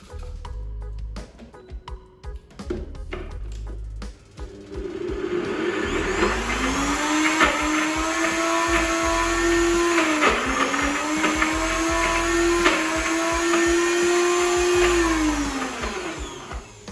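A food processor whizzes walnuts and oats into a tart crust. A few clunks come first, then the motor spins up into a loud, steady whirring hum that dips briefly once before running on.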